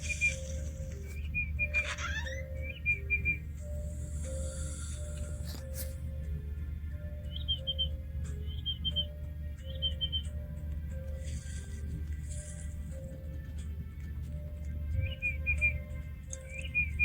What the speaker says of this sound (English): Dude, what is that whistling?